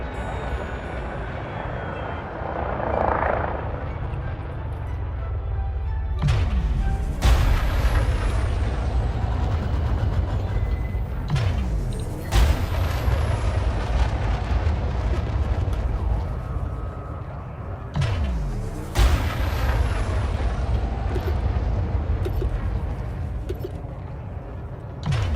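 A hefty Type 9 spaceship in a space video game gives off a deep, continuous rumbling engine drone, with several loud hissing, air-brake-like bursts and sweeping whooshes recurring throughout.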